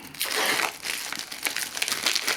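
Packaging of a Wiko Darkfull phone box is cut and opened with a knife, giving close crinkling, tearing and rustling in bursts over a couple of seconds, without speech.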